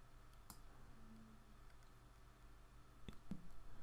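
A computer mouse clicks on a Windows 10 Start menu, giving a few faint, sparse, dry clicks against a quiet room hum.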